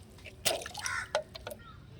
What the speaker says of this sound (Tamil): கொஞ்சம் தண்ணி தெளிச்சுக்கலாம்